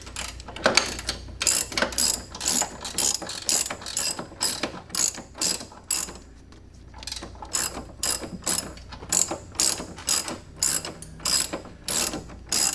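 Steady bursts of ratchet clicking as camber bolts on a C5 Corvette control arm with monoball bushings are tightened, close and loud, with brief pauses between strokes and no talking.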